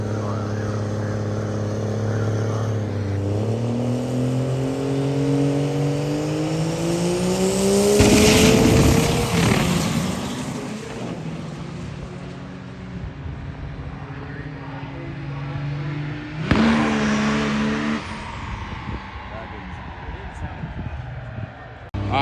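Race car engine on a dyno, revving hard through rising harmonic sweeps in repeated loud pulls, with a roaring peak in the middle and another burst near the end, close and dominant with people talking over it.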